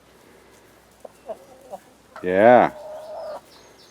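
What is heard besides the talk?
chickens clucking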